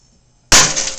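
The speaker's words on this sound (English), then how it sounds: "And then it's gonna explode. Get ready for an explosion." A lightbulb bursts inside a running microwave: after a quiet hum, one sudden loud shattering crack of glass, followed by a bright sizzling rush that slowly fades.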